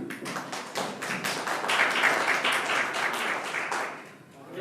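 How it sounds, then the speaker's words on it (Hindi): An audience at a community gathering applauds, steady dense clapping that swells and then fades toward the end, with a faint voice underneath. "जोरदार तालियों से स्वागत।"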